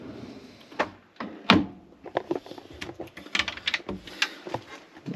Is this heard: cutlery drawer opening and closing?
yes